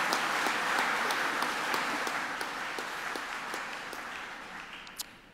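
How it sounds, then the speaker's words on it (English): An audience claps and applauds steadily for several seconds at a moderate distance, then the applause slowly fades toward the end. "Round of applause."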